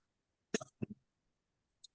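A single sharp cough burst followed by a second, smaller double cough, close and fairly loud, then silence with a faint click near the end.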